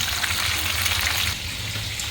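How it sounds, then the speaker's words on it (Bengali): Hilsa fish frying in hot oil, a steady broadband sizzle with a low bubbling rumble underneath, close and continuous with no talk. "আর মাছটা আমি ফ্রাই করে নিচ্ছি।"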